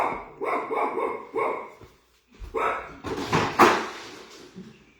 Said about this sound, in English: He's just trying to get him to stop barking